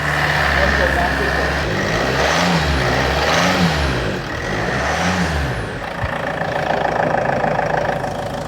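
A Land Rover Freelander 2 engine, bought cheaply and giving off strong exhaust fumes, runs loud and close at a rough idle for several seconds, with a slight swell in engine pitch partway through and a person talking over it.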